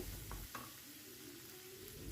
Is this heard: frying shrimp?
yes